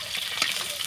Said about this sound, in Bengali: এগুলো চুই আর আলুগুলো আর চুই ভেজে নিচ্ছি